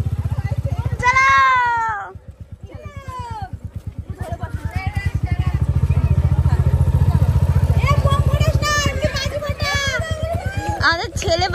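A Bullet motorcycle carries a groom and his bride away at a wedding send-off, its low engine rumble thrumming steadily and swelling as it revs, mixed with children's voices and lively chatter from the crowd.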